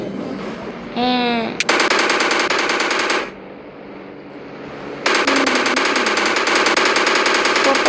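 Rapid automatic gunfire from the Indian Bike Driving 3D video game, two long sustained bursts of dense rattling shots, loud and close, with a brief rising electronic tone before the first burst.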